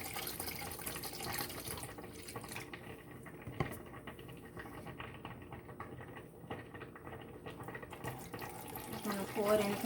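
Liquid for homemade aloe vera hand sanitizer, 70% alcohol, poured into a container, a soft continuous trickle and patter close by, with quiet handling noises.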